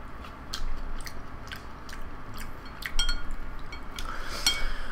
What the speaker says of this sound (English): I'll eat the little piece of meat.